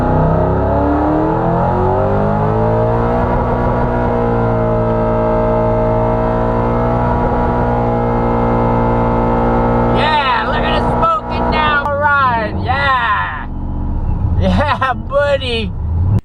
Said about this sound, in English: that was a great burnout after doing the pin reinstall